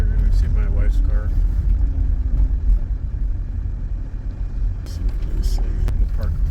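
A minivan drives along a rural road past farmland, its engine and road rumble steady and loud throughout, with people talking over the noise.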